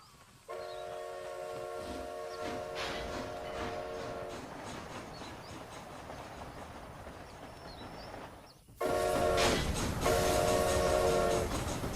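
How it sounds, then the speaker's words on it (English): A train rumbles steadily in Red Dead Redemption: Undead Nightmare as a steam whistle blows in long harmonic blasts, then cuts out and returns louder after a sudden jump in the wheel and track noise. "Alright, so now we're riding the train"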